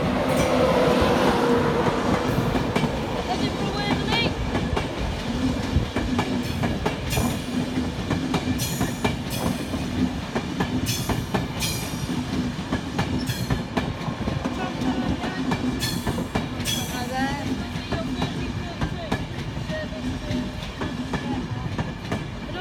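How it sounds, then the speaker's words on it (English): An LNER electric train, locomotive 91107, slows into Durham station with rhythmic wheel clatter over the rails and occasional brake squeals, loud and close from start to finish. "LNER about to stop here at Durham."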